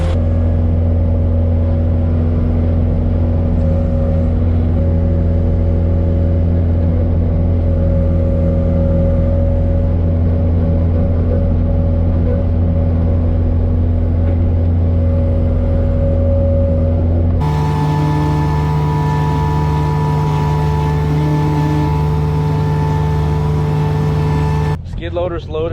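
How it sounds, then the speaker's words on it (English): Skid loader engine running steadily and loud for the whole stretch as the machine drives onto a trailer, with a tonal hum that shifts near the end as the load settles, and no voices. "we're gonna grab the post pounder and park the skid loader on the trailer"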